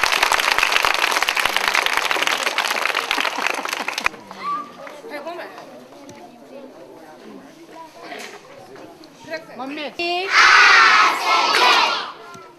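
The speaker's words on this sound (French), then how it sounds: "Applaudissez pour maman." A crowd at a donation distribution event breaks into loud applause and cheering with shouts, fades under a spoken voice, then bursts into a second loud round of clapping and cheers near the end.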